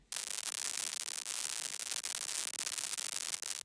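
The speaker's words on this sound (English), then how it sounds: "you have some delightfully random crackle" Sparse white noise shaped into random crackle for music production: dense, irregular static pops and hiss run continuously at a moderate level, with a few brief dropouts.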